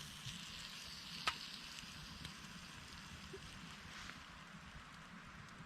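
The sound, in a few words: bacon sizzling in a pan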